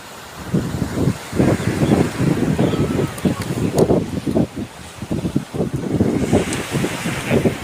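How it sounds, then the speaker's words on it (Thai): Sea waves wash and splash up onto a beach in repeated loud surges, with heavy wind buffeting the microphone throughout. "เดี๋ยวน้ำสาดขึ้นมาแล้ว"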